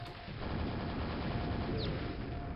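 Rapid weapon fire, the nailgun in the video game Quake, rattles on as a dense continuous burst of shots under game noise throughout.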